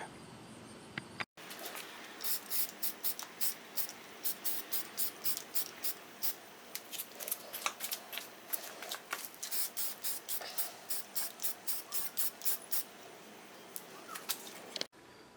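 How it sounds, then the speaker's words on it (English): Repeated short hissing bursts of black spray paint onto metal motorcycle foot pegs, a steady rhythm of quick sprays close by, with brief pauses between them. "I'm going to spray them black."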